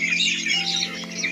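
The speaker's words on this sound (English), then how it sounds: "Chirping birds in early morning to evening, playing in its own ways" Birds calling in the early morning, a steady layer of bright chirps and squawks close by with no pauses, alongside a rooster-like fowl call.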